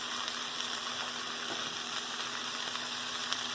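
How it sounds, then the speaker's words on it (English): Carrots, onions and celery for a mirepoix fry in a pan with a steady, dense sizzle that stays even and fairly close throughout, with no voices. "we are going to cook down this mirepoix as much as possible"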